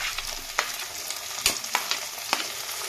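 Banana flower curry with chopped tomato frying in a pan, a steady sizzle broken by several sharp scraping clicks as a spatula stirs it, close and moderately loud.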